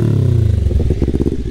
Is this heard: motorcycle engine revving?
yes